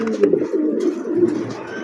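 A pigeon kept on a pigeon farm coos nearby in a short burst of low, burbling, wavering calls, with a few faint chirps in the background.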